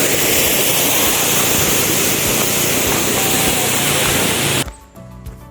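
A waterfall beside a rural barangay road on farmland in Lopez, Quezon gives a loud, dense, steady rush of falling water that fills the sound for over four seconds, then cuts off abruptly to quiet.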